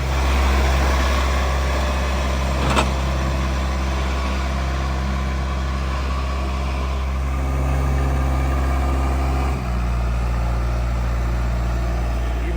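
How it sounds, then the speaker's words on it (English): A tractor drags a box blade over dirt while reshaping a slope at a shop build site, a loud steady engine drone with a low rumble and faint scraping, the load shifting briefly partway through, no talking. "we're gonna try to use the box blade to drag some more dirt out from where I tried to slope this the other day"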